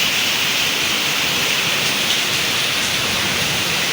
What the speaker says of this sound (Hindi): आज बारिश पूरे ज़ोरों शोर से आएगी